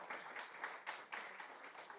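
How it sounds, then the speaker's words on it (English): Banquet audience applauding retirees at a school district retirement banquet, a soft, fairly distant wash of many hands clapping in steady broadband bursts, continuous throughout without speech. "Let's give all of our A through L retirees another big round of applause."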